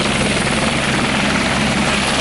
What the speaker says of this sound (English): I'm going for an helicopter ride over Corsica.